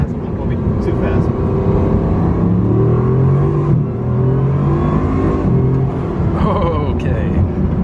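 Bugatti Chiron with a dual-clutch gearbox accelerating hard in a short blast, a loud rising engine roar with smooth upward pitch sweeps and a brief gear-change dip, heard from inside the car with occasional voices.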